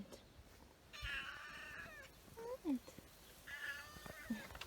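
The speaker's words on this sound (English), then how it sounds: "That's our neighbor's cat, I think, and it's constantly in our garden." A neighbour's cat meows repeatedly in a home garden, several drawn-out, close cries with a short chirp between them, while a person speaks quietly nearby.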